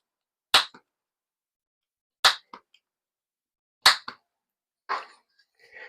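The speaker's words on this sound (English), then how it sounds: "Then I take the round over, the corner rounder, and I just round off the edges." A handheld corner rounder punch clips the corners of printed game cartridge labels: three sharp snapping clicks spaced about two seconds apart, each with a small follow-up tick, then softer rustling handling sounds at the end.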